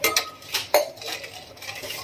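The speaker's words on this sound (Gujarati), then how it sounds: "અને આને હવે હલાવતા રહેવાનું છે સતત, કારણ કે નહીતર નીચે તળિયામાં ચોટી જાય છે" A spoon scrapes and knocks against a metal pot while a milk mixture for homemade ice cream is stirred, giving a few sharp clinks over soft, irregular swishing up close.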